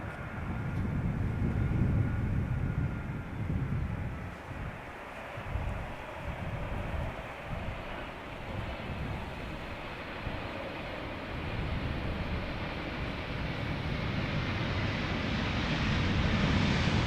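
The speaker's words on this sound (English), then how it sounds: "This is a 777-200 ER arriving from Panama City." A KLM Boeing 777-200ER airliner arrives from Panama City, its broad engine roar steady and loud throughout, rising slightly toward the end as it passes near.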